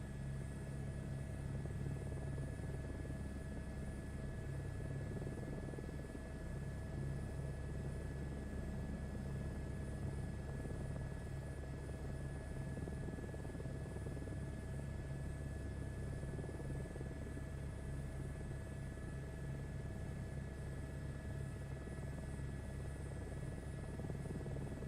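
Helicopter engine in the video game Microsoft Flight Simulator 2024, a steady droning turbine hum with rotor chop, constant and moderately faint for the full length with no talking.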